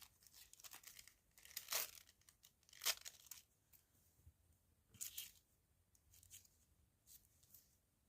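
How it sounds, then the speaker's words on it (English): Paper edge being torn by hand for a tissue-and-glue craft page: several short, close rips and crinkles in quick bursts, separated by brief quiet gaps, with no talking. "I'm just going to tear this edge to give it a bit more character"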